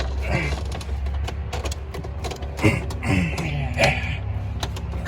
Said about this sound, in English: So now you're gonna put the wrench on and just torque it.